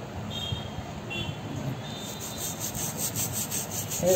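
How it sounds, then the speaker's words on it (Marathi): Crabs for a Malvani-style crab curry being scrubbed clean of dirt with a new brush, a steady close rubbing and scraping that runs continuously without any talk. "आता आपण एक नवीन ब्रश घ्यायचा आहे आणि ते साईडची सगळी घाण घासून काढायची आहे."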